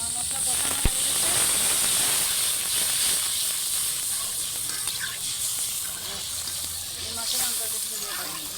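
Liquid poured onto fried spices in a pan for a homestyle boal fish curry, giving a steady, loud sizzle and hiss that lasts throughout.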